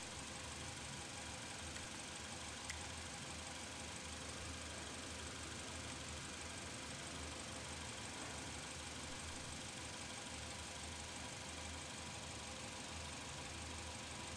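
A car engine idles at low, steady volume during a coolant flow test with a cooler flow tester, a constant faint rumble with no talk.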